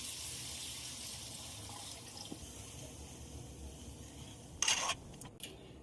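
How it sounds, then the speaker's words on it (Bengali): Hot water is added to a cooking pan of well-fried spices and tomato for a bhola fish curry. A soft background hiss gives way near the end to a brief, louder splashing gush. "জল দিয়ে দিলাম, গরম জল।"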